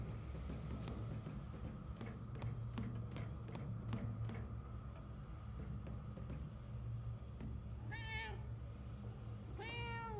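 A cat meows twice near the end in the video game Murdered: Soul Suspect, short rising cries heard over a steady low rumble and faint clicking ambience, with no talking.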